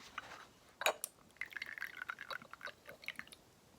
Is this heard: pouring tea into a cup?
yes